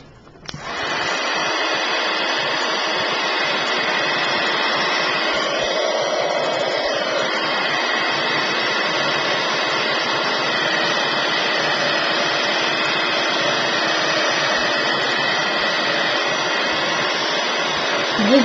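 A small heat gun blows a steady, loud whooshing hiss for a long stretch while drying mixed media paint, switching on near the start and running without a break.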